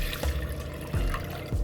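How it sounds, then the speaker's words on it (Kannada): Water poured into a bowl for a kaju masala curry, a soft splashing trickle with a few brief louder pours, close and alone. "ಇದ್ರೊಳಗೆ ನೀರು ಹಾಕ್ತೀನಿ."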